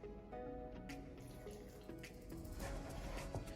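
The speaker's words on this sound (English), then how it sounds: "now we're just gonna go in with a little of the ice cold water" Ice-cold water trickles and splashes into flour for dough in a kitchen, a steady close pouring with small drips and clinks throughout, no voices over it.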